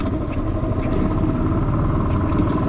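Royal Enfield motorcycle engine thrumming steadily and loud on a long highway ride from Chennai to Gandikota, a continuous low rumble with no voices over it.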